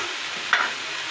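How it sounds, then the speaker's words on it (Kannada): Onion, green chilies, ginger and garlic sizzle softly in oil over a low flame, with a brief stir of a spoon through the pan midway. "ಹಾಕಿ ಲೋ ಫ್ಲೇಮಲ್ಲೇ ಹುರ್ಕೊಳ್ಳೋಣ"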